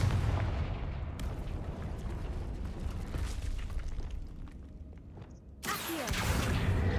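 Confringo blasting spell in Hogwarts Legacy: a heavy explosive boom opens, decays into a rumbling, crackling tail, and a second sharp blast hits near the end, with no talking.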